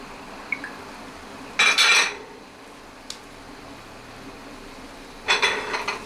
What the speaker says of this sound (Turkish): Yemeğimi şöyle bir karıştıracağım.